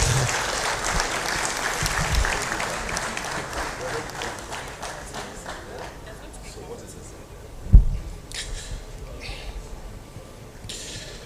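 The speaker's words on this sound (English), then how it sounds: "That applause is not strong enough for this." An audience at a Nigerian book event on insecurity applauds an author, a dense, sustained clapping that gradually thins out, with one sharp knock near the end and faint voices beneath.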